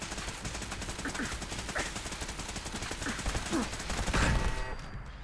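An automated turret in Fallout 4 rattles off continuous rapid gunfire, dense and steady throughout, with a few sharper impacts standing out near the end.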